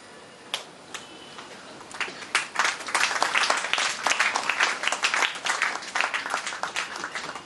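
An audience applauds at a welcome ceremony during a college carnival in Nagpur, starting with a few scattered claps and swelling into sustained, lively clapping from a crowd.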